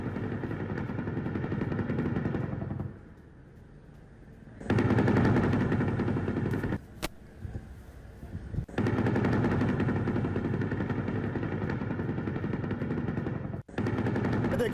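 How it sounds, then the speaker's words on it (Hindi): Sustained bursts of gunfire in news footage of attacks on residential areas of Rafah, with firing from a helicopter; loud, dense rattling segments broken by brief quieter gaps. "दूसरी तरफ हेलीकॉप्टर से फायरिंग की जा रही है"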